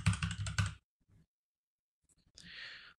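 Keyboard keys being typed on a computer during text entry in After Effects, a quick burst of clattering keystrokes up front, then a faint tap and a soft hissy rustle near the end.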